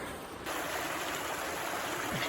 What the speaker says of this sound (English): Nice cascading waterfalls there.